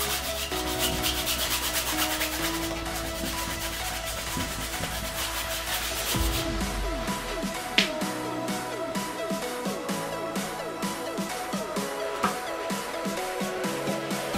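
Oil paint and oil are rubbed onto canvas with a brush, a continuous close scratchy scrubbing that shifts to quicker, rhythmic strokes partway through.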